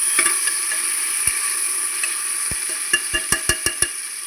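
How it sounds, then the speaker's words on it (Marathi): Tomatoes and onion frying in oil in a home kitchen pan, a steady close sizzle running throughout with a series of sharp scraping stir knocks clustering toward the end; no talking. "बघा तुम्ही बघू शकता आपला टोमॅटो पण इथे चांगलं तेलामध्ये फ्राय होतोय"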